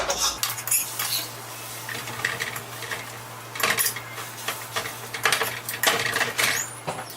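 Utensil scraping and tapping on a pan as scrambled eggs are folded over on themselves, with irregular clinks and scrapes over a steady low hum, close and fairly loud.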